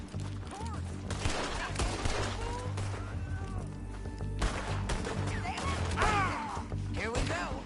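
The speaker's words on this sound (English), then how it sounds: "Told you I could shoot a gun, didn't I?" Scattered gunshots and impacts from Red Dead Redemption 2 sound amid game ambience and music, with characters talking over them at moderate loudness.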